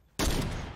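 A sudden, loud burst of gunfire in the video game Fortnite, several rapid shots fired close together, starting sharply after a near-silent moment and ringing out briefly.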